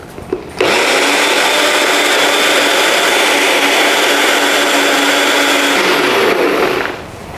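A mixer grinder runs steadily at high speed for several seconds, grinding idli batter with little water, a loud continuous whirring grind that starts abruptly and winds down at the end.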